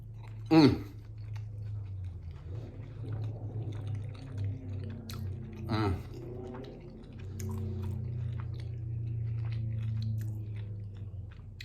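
Close, wet chewing and biting while eating Cuban stewed steak with white rice, steady mouth sounds with a couple of sharp crunchy bites, over a faint low background hum.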